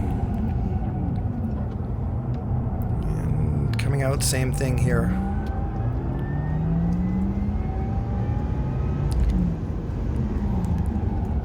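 A Porsche Taycan runs hard on a race track, a steady electric drivetrain whine and road rumble under full throttle and braking, with someone talking over it throughout.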